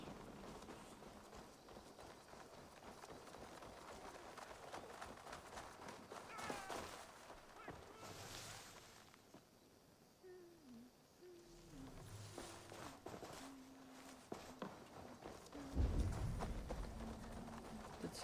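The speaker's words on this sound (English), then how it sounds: "I hear horses." Horses ride past in Assassin's Creed Valhalla, with faint hoof clip-clops thudding at a distance under a soft game ambience, and a few brief tonal effects near the end.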